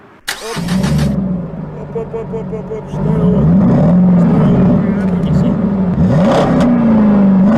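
A BMW car engine revs close by, rising and falling through several throttle blips before a longer held rev, while people talk over it.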